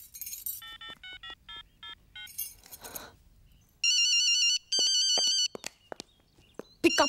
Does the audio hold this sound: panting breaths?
no